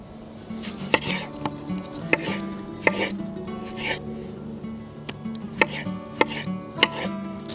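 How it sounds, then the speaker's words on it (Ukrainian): Knife slicing tomatoes into wedges on a board for ojakhuri, a Georgian meat-and-potato dish cooked in a sadj pan, giving a string of sharp, close chops at uneven intervals over a low kitchen hum. "Помідорчики нарізаємо дольками."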